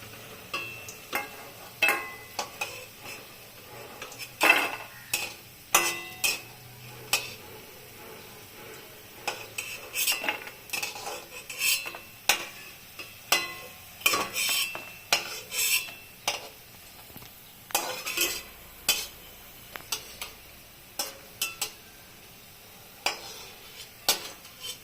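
Fried lentil fritters being lifted out of a pan, a series of sharp metallic clinks and scrapes of a utensil against cookware at an irregular rhythm over a faint low sizzle, close by, no talk.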